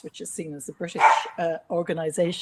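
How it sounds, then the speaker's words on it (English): A dog barks repeatedly in a house during a panel discussion on the Church of Ireland, with several short close barks mixed in under a person's continuous talk. "the dog is about to bark."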